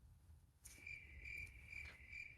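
Crickets chirp in steady repeated pulses, faint and alone against a low background hum.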